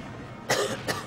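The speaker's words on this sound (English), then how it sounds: "Shouldn't be coughing in the mic" Two quick coughs close into a microphone, a sharp burst followed by a softer second one, with no talking.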